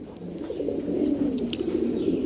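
Giribaj pigeons, a pair of Sapchila birds, coo in a steady low murmur at close range, the soft throaty calls overlapping continuously without pause.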